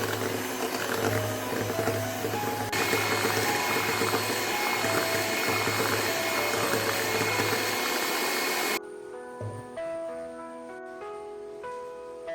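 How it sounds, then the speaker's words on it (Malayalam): An electric mixer whirs steadily as three eggs are beaten into cupcake batter until fluffy, a loud continuous motor drone that cuts off abruptly near the end, leaving a quieter tail. "മൂന്ന് മുട്ട നമുക്ക് ഈ മാവിലേക്ക് ഒഴിച്ചൊന്ന് നല്ലതുപോലെ ബീറ്റ് ചെയ്തെടുക്കണം"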